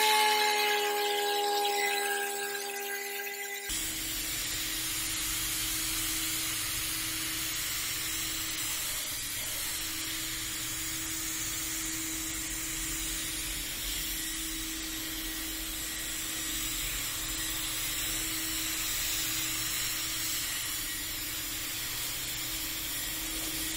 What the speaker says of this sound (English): So we're gonna mix these up really well and start spraying our Performance Series.